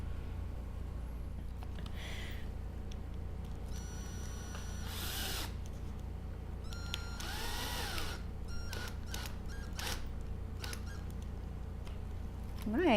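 A power drill drives a screw into a broom kickstand for a homemade Nimbus 2000 replica, heard as short, intermittent whirring bursts over a steady low hum.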